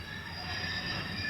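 A train at Crewe Station grinds along with a steady, high metallic wheel squeal over a low rumble, sustained and fairly close throughout.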